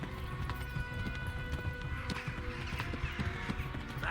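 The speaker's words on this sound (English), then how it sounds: "what happens when the horse runs out of stamina?" A horse gallops in Kingdom Come: Deliverance with rapid, rhythmic hoofbeats and an occasional whinny over ambient game sound, while a voice talks faintly in the background.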